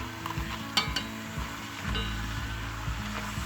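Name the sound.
olai pakoda (rice flour snack) deep-frying in hot oil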